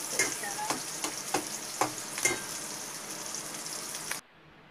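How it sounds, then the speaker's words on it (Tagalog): Onions sizzle steadily in a pan, with a string of sharp scraping and clinking hits from the utensil as they are stirred, close and fairly quiet, before the sound cuts off abruptly. "Tapos lagay na natin yung sibuyas. Yan, halo-haloin mo hanggang maluto siya."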